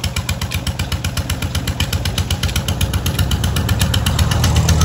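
A small tubewell pump engine runs steadily with a rapid, even putter and a low throb, close by and continuous with no voices.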